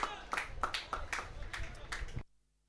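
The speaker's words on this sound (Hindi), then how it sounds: "जरा जोरदार तालियां" An audience at a local cricket match claps for the man of the match, a short burst of scattered, fairly distant hand claps that cuts off abruptly into silence.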